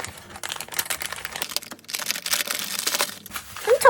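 Paper and plastic packaging of a mailed parcel crinkled and torn open by hand, dense continuous rustling and ripping, close and fairly loud throughout.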